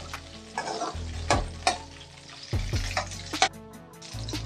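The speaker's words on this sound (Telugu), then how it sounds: "ఇలా ఫ్రై చేసుకోవాలి ఫ్రెండ్స్ పచ్చిమిర్చిని" Green chillies fry in hot oil for a gongura chutney, giving a steady close sizzle with a few sharp spoon scrapes and clinks as they are stirred.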